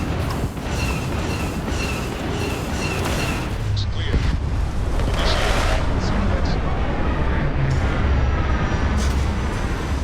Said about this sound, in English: Hearing the engines come to life as a massive ship descends onto a landing pad is just super cool.